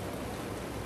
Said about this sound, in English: I'm ready to go to sleep, but this rain.